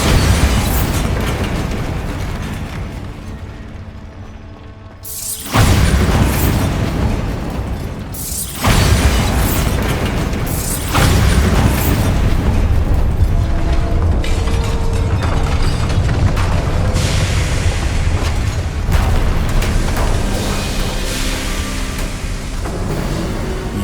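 A Bombarda spell explosion in Hogwarts Legacy: loud, heavy booming blasts with sudden bursts that swell and then roll into a sustained rumbling roar.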